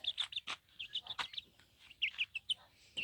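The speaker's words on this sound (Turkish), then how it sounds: "Bu, bu evde de civcivlerimiz var." Baby chicks in a hobby farm coop give a steady run of high, thin peeps, many short chirps overlapping at close range with no talking.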